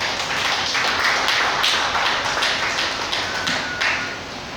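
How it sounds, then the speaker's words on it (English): A lecture audience claps for a speaker coming to the podium, a steady spread of hand claps that fades slightly near the end, with no voices over it. "join me with a resounding round of applause"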